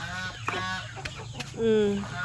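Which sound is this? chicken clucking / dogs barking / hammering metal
chicken clucking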